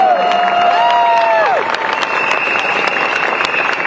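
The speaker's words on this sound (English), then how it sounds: "Give them another big round of applause, all our new candidates." Loud crowd applause and cheering at an outdoor political election rally, a dense roar of clapping with a few whistles or tonal calls, sustained and close throughout.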